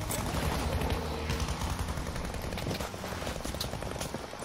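Rapid gunfire from Battlefield V plays continuously and densely throughout, a dense rattle of shots with no clear pauses.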